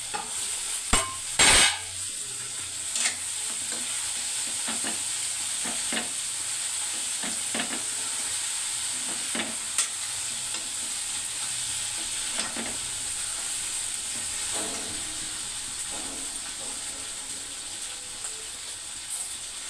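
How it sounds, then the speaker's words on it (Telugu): Curry fries on a stovetop with a steady, close sizzle as a utensil repeatedly scrapes and stirs the pan, plus a few sharper knocks near the start. "ఈ కర్రీ స్టవ్ మీద వండుతాను."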